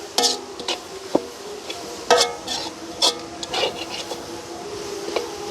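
Egg kothu being chopped and stirred in a pan without a kothu griddle in a village kitchen: repeated sharp metallic scrapes and clinks of a utensil against the pan, irregular and close, with no talk.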